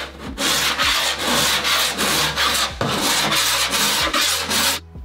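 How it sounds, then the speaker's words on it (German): A body file scrapes rhythmically across a crash-damaged Porsche GT3 RS body panel, about a dozen loud, even rasping strokes in a steady back-and-forth rhythm, close up. "wir wollen hier nichts gerade feilen, sondern wir wollen jetzt ein Feilbild erstellen"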